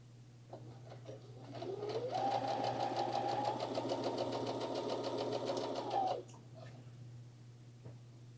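A home sewing machine stitching fabric for lounge pants runs in one steady, close burst of about four seconds. A faint hum and a few soft clicks come before and after it.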